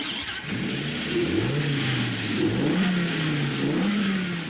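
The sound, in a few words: car engine revving, compressed-air hybrid engine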